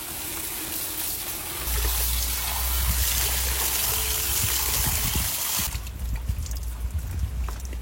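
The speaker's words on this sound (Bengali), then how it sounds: "এগুলো সব আগে জল দিয়ে ধোয়া হবে, তারপর রান্না হবে" A basket of freshly picked garden vegetables is washed in water, with a rushing, splashing flow that swells loudly and continues, then gives way to a lighter trickle and handling sounds near the end.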